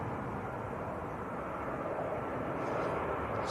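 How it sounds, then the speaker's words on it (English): A Ryanair Boeing 737-800 lands, heard as a steady, fairly distant broadband jet rumble and roar with no talking over it. "Next to land is Ryanair from Alicante down in Spain."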